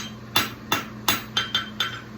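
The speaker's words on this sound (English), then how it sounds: "Now I'm going to use the round side of my hammer." A farrier's hammer, round side down, strikes a horseshoe in a steady run of six sharp metallic blows, close and loud, each ringing briefly before the next.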